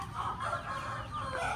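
White Shamo chickens cluck and murmur in a continuous, close, moderately loud stream of low calls lasting under two seconds.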